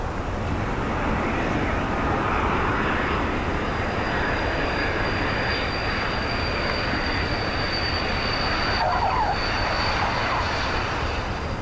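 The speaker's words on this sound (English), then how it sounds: "this is the same aircraft performing the same approach" A jet aircraft flying an approach at an air show and then pulling up gives a loud, steady broadband engine roar that stays constant and close throughout, with a faint high whine above it.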